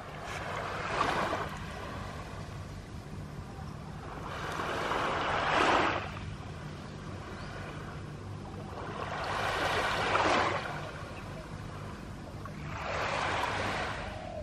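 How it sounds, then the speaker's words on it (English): Ocean waves rolling onto a quiet beach at Bophut, Thailand, four slow surges that swell and wash out at regular intervals over a constant low hiss of surf. "And the sound of the ocean."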